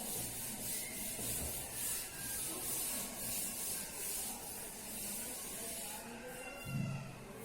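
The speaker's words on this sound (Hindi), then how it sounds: "I am going to rub this so that I can draw here" An eraser rubs out a pencil drawing in a children's maths lesson, producing a steady, faint scrubbing that continues without pause and ends with a slight bump.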